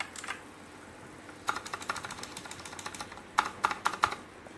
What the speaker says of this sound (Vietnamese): giờ mình gõ bàn phím này